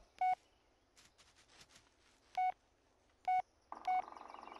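Phone message notification tones in the Blair Witch video game on Nintendo Switch: three short separate beeps in a row, then a longer steady buzzing tone, clear and close with no talk.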